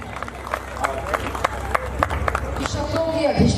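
At a stage poetry gathering, the audience claps for Bhumika Jain. It starts as scattered sharp claps and thickens into steadier applause, with a voice coming in near the end.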